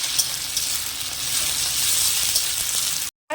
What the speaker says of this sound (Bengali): আর রসুন ভালোভাবে ভাজা হয়ে গেছে।